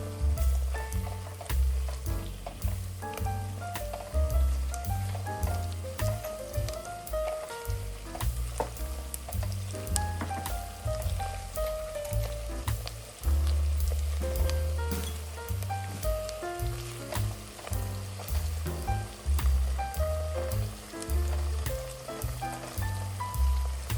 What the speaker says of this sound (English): Sauté the meat well with the onions until all sides are nicely browned